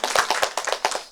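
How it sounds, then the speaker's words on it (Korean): Parents at a school training session clap in a short burst, sharp, close hand claps with an uneven rhythm and no talking. "다시 한번 큰 박수를 부탁드립니다."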